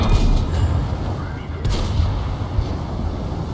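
Tank cannons fire in World of Tanks, with deep booming blasts and rumbling echoes overlapping in a steady, loud barrage.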